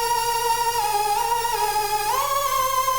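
A steady buzzy NI Massive synthesizer patch whose pitch wobbles slowly up and down under LFO modulation, continuous and fairly loud, with no voices.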